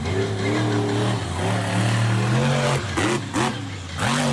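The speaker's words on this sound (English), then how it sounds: "Monster truck." A monster truck engine revs loudly and steadily, its low harmonic drone rising and dipping through several throttle swells, with a few brief breaks near the end.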